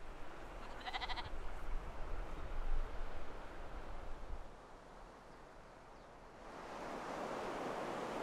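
Icelandic sheep bleating beside the ocean, with steady crashing surf and wind dominating and a brief bleat early on, no speech.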